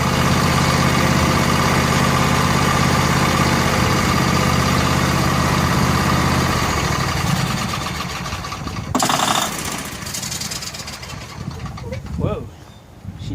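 A Briggs & Stratton Entek 22 HP twin on a John Deere L118 lawn tractor, running without an air filter, roars loudly and steadily, then is cut off and sputters and diesels for several seconds with irregular coughs before falling quiet.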